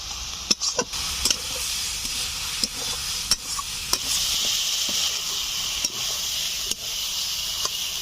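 Fish head of katla cooked down with grass pea greens in a wok, stirred steadily so the pan sizzles and hisses with repeated sharp scrapes and clicks of the spatula, close and alone.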